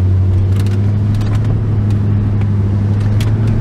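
A 2006 Dodge Magnum R/T rolls slowly with the windows down, its engine a steady, loud low hum and rumble with no revving, under faint road and wind noise.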